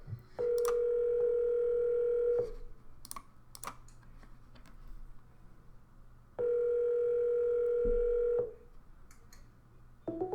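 On a live broadcast, a telephone call rings with two long steady electronic tones separated by a gap, joined by faint clicks and light keyboard tapping.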